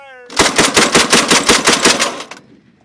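A Mk 19 40mm automatic grenade launcher fires a rapid, evenly spaced burst of about eight loud, close booming shots, then the sound falls away.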